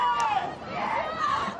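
Fans on the shore shout and cheer on rowers racing on water, a dense crowd of voices heard at moderate distance in a short, steady burst.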